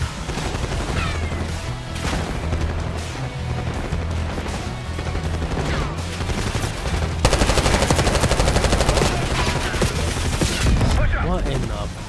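Dense, rapid automatic gunfire from the Black Ops 6 campaign's casino heist mission, sustained and loud across the whole stretch with bursts overlapping into a near-continuous rattle, growing heavier in the second half.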